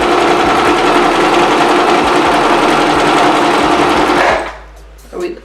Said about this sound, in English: and then just sewing straight across